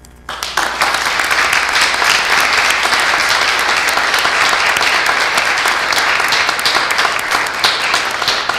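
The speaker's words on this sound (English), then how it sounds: "How much applause is the minutes going to reflect for the mayor?" A loud, sustained ovation for the mayor at a borough council reorganization meeting, with dense clapping that swells quickly and holds steady for about eight seconds.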